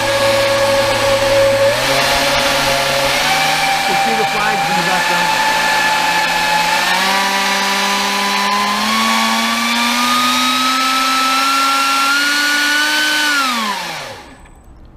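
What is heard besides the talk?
ducted fan forced air turbine running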